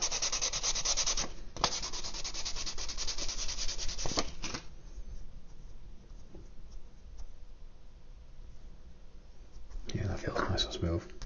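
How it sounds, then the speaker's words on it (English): Fine 800-grit sandpaper rubbing across the hull of a 1/250 scale Yamato model ship, steady close scratching strokes with brief pauses and a louder burst near the end. "Finish off with a little bit of 800 sandpaper."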